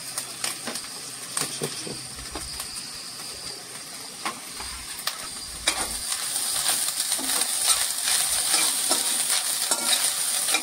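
Freshly grated coconut being sautéed with browned onion in hot oil for a Malvani-style amti: a steady sizzling hiss with frequent scraping stirs, growing louder and fuller toward the end, with no talking.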